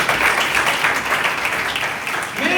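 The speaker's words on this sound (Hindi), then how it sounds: "आमिर भाई के लिए तालियां।" An audience at a church mission outreach gathering in Sindh applauds for a man, a steady wash of clapping that swells slightly toward the end.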